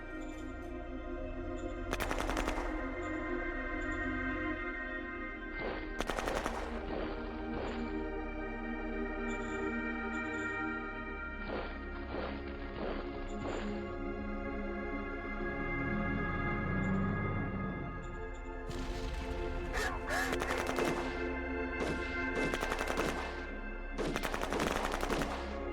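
Repeated bursts of automatic and single-shot gunfire from the strategy video game Shadow Empire, loud and close, in clustered volleys with short gaps, over a steady game soundtrack without talk.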